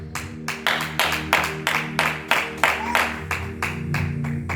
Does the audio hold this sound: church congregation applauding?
yes